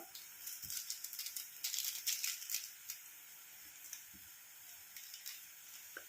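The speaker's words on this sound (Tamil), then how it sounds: "இப்போ வந்து நம்ம தண்ணி கொதிக்க ஆரம்பிச்சிருச்சு" A soft bubbling, hissing simmer of water heating in a pot with instant coffee powder, fairly quiet and steady, with a few faint clinks.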